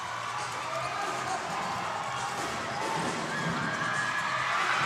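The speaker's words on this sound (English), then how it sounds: "A very noisy crowd." Noisy crowd at a basketball semifinal in a convention center: a dense, steady roar of many voices with shouts and cheering rising toward the end, under commentary.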